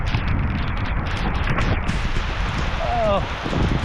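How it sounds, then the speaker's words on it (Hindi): Heavy rain pours down in a Sri Lankan village, a dense, loud hiss filling the whole stretch with gusty wind noise on the microphone. "मतलब बारिश काफ़ी तेज़ हो रहा है।"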